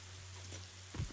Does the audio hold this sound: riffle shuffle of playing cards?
no